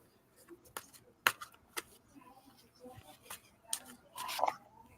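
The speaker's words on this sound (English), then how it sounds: "we'll get a little shuffle going on here" Tarot cards being shuffled during a reading, heard as scattered soft riffling bursts and sharp card snaps at close range, quiet overall with brief gaps between handfuls.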